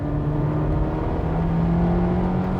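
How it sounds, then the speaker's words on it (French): A Citroen DS3 sport chic hatchback gives a steady, loud exhaust drone with a low, even hum that holds close and constant throughout, with no voices over it. "on profite encore de la belle sonorité de l'échappement"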